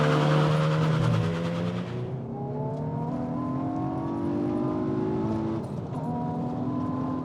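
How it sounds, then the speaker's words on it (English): A manual Hyundai i20N pulls away under launch control, its engine roaring hard and then climbing in pitch through rising gears with brief dips at the shifts, loud and steady from inside the cabin with no talking. "so it's time to launch the i20N"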